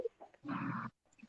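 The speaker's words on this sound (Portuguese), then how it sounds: "tá dando pra ouvir o cachorro" A dog barks once in the background at moderate distance, a short rough bark heard amid quiet room sound during a conversation.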